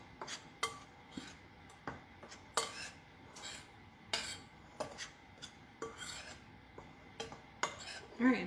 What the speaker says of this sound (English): just make sure you mix really well